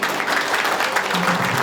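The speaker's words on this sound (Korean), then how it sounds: "한 분 큰 박수로 맞아주시기 바랍니다." An audience at a Gyeongbuk provincial agreement ceremony gives a short, steady burst of applause welcoming the provincial governor, a dense crowd clap with a faint voice beneath.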